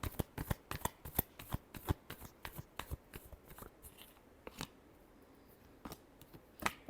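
Tarot cards shuffled by hand in a quick run of sharp riffling snaps and flutters, close and crisp, pausing briefly before a few final clicks.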